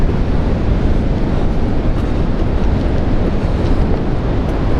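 Strong wind roars steadily across the microphone at a harbour quay, a dense unbroken rush with buffeting gusts and no voices.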